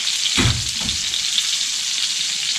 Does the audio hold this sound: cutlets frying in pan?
yes